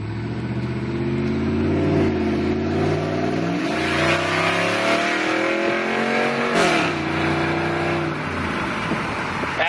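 A loud Jeep Commander 4.7 engine with no muffler drones and revs close by, pitch rising and falling, with sharp crackling pops from the exhaust mixed into the roar.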